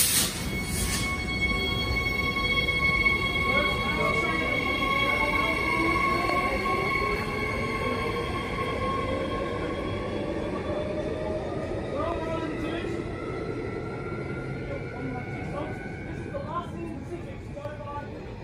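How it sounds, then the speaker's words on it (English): A train passes by the old Bayswater Station, a long rumbling roll with high metallic wheel squeals and tonal whines sliding in pitch, loud at first then gradually easing; voices are faint in the background. "We're filming the train."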